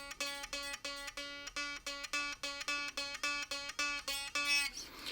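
A series of evenly spaced plucked notes on a 1996 Epiphone Les Paul Pee Wee mini guitar ring out one after another, each bright and sustained and bending sharp from fretting pressure, in a steady repeated rhythm.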